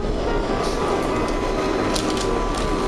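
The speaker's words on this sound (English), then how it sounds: "So that's where I go, on the train ride." Steady, loud rumble of a commuter train ride in the morning, a continuous broadband clatter and hum holding level throughout with no talk.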